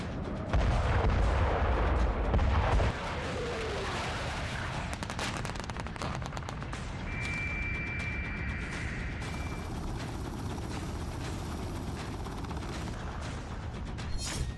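Artillery fire at a Russian nuclear-war military exercise in Belarus involving land, air and naval forces, heard as a loud low boom at the start, then sharp scattered bangs and rumbling blasts over a continuous outdoor noise bed.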